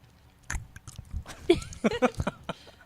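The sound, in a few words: chewing sounds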